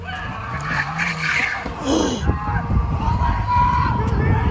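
A car speeding away after running over a teenage girl, its engine and tires roaring with a squealing skid over a steady rumble, with people talking in the background.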